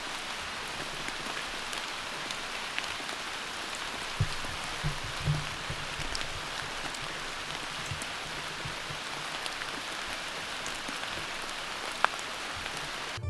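Steady rain pours down at a trail shelter during a tropical storm, a dense continuous hiss of drops on surfaces with a few louder nearby knocks, no voices.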